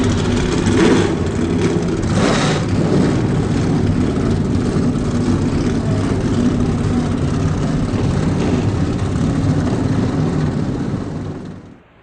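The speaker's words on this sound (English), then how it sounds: "Drivers, start your engines!" Race car engines start and roar together before the second duel of the Daytona 500 in the NASCAR Racing 2003 video game, a loud dense continuous engine rumble that cuts off abruptly at the end.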